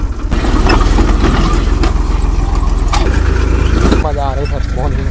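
A tractor engine runs steadily and loudly in the open while it works a field at sowing time, with a constant mechanical drone and people talking over it toward the end.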